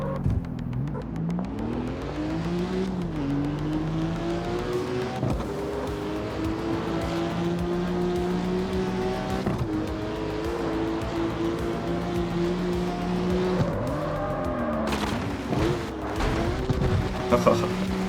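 Racing car in the CarX Street video game drives steadily with a continuous engine drone that rises and falls through gear changes, broken by tire squeals, under a man's chatter throughout.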